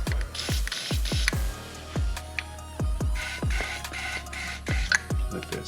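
Cleaner is sprayed into the chamber of a suppressed firearm. A long run of short, sharp pumping and spritzing bursts repeats in an uneven rhythm, close and clear, with no talking.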